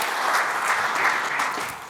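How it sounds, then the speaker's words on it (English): Sustained applause from a conference audience at a tech talk on moving from cloud native to AI native, a steady dense clatter of clapping filling the room with no speech over it, tapering slightly at the end. "Vivek, round of applause, please."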